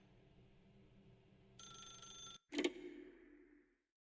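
A telephone rings in the video game The Stanley Parable: one sustained electronic ring, a brief gap, then a sharp click-like burst that fades out, heard alone in a quiet scene.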